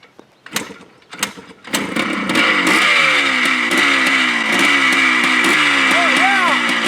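An old two-stroke motorcycle engine sputters through a few failed kicks, then catches and runs, revving up and down with a rising, wavering pitch, loud and close, with voices talking over it.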